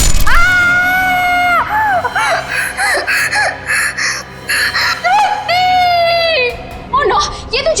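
Woman screaming in fear in a CID crime drama, loud high-pitched shrieks and wails in several long bursts with sobbing breaths between them, close and dominating.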